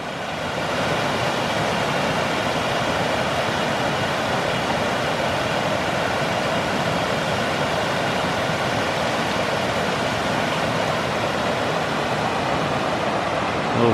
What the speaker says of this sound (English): Oh, look at that beautiful waterfall.